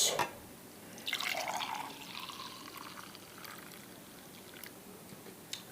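Homemade Starbucks-style hot chocolate is poured into mugs, a soft splashing trickle of liquid after a clunk, fading to faint dripping, quiet and close with no talking.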